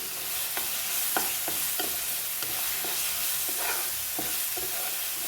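Ginger garlic paste fries in a pan for a spicy prawn curry: a soft, steady sizzle with repeated rhythmic scrapes of a spoon stirring, close up and with no talking.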